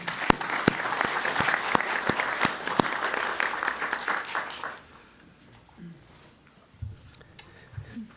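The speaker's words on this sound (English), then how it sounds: "Again, please give him a round of applause." Audience applause at a port decarbonization and green shipping symposium, a burst of sharp claps that fades out after about five seconds, followed by quiet room sound and brief talk.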